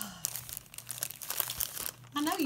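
Handmade paper bags crinkle and rustle as they are handled up close, in a quick series of crisp crackles, ending with a brief burst of voice.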